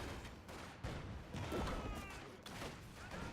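Sustained T-70 light tank gunfire in a Company of Heroes battle, steady dense bursts and booms in a busy combat mix with a brief voice-like tone partway through.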